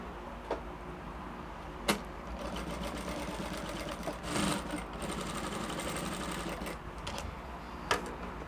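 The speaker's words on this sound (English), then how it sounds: "The first thing I'm going to do now is to sew in my dart." A sewing machine stitches a dart on a dress in a steady, close, fast mechanical patter, broken by a few sharp clicks and a brief louder burst midway.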